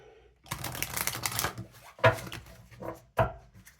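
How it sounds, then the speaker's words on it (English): A deck of tarot cards is shuffled by hand up close, giving a riffling flutter followed by a few sharp card snaps and taps. "Try to shuffle these cards quickly"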